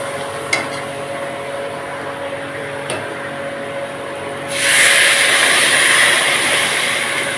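Water hits a pan of sautéed flat beans and vegetables, bursting into a loud, sustained hiss of sizzling about halfway through after a quieter stretch of low pan noise and small clinks.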